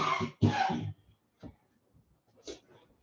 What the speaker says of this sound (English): just had to cough there for a second